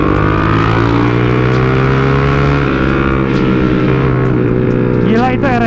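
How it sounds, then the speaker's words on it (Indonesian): A loud motorcycle exhaust blares on a road in Bogor, Indonesia, a steady close engine drone with harmonic tones that rise as it revs toward the end, while a rider talks over it. "bacot banget knalpotnya"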